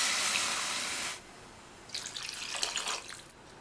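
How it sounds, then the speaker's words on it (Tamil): Water poured from a vessel into a cooking pot holding soaked parboiled rice, a brief bright splashing rush, then a pause and a second shorter burst of pouring and trickling, close and clear. "அதுக்கு 2 கப் தண்ணி சேர்த்துடலாம்."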